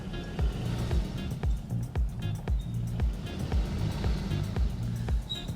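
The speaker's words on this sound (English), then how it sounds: "Heavy on the throttle now." A 2021 Nissan Rogue AWD SUV under heavy, full-throttle acceleration on a slippery slope test, its engine droning steadily and loudly with rhythmic thumps and scrabbling throughout, no talk heard.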